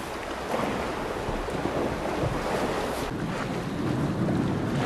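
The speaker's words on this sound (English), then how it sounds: "The wave climbs the ramp, falls in the tank, and flows out through the turbines." Ocean waves wash over the Wave Dragon floating wave energy converter, a continuous loud rush of water and surf mixed with heavy wind buffeting, with no voices.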